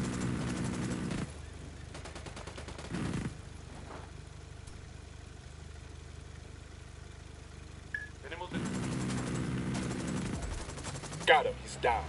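Gunfire in a firefight breaks out in bursts, with loud clusters of shots at the start, around three seconds and again after eight seconds, under radio-style voices and a low steady engine-like drone.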